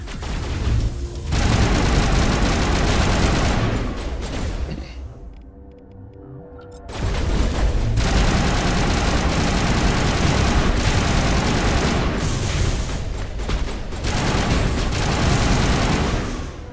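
Heavy, sustained gunfire from the video game Mass Effect during a lab battle against Matriarch Benezia, loud and dense, dropping briefly into a quieter lull before the barrage resumes at full force.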